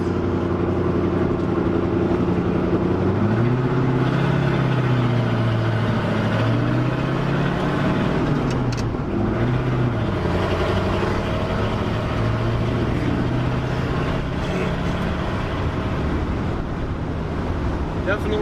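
A 1966 car long parked for over 33 years drives down a street, its engine a steady drone that rises and dips with speed, under constant wind rush from the road.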